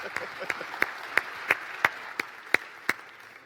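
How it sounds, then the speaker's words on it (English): Sparse audience applause at a startup conference: about ten distinct, evenly spaced claps ring out over a quiet room hum, moderately near and fairly soft. "One more round of applause for these guys."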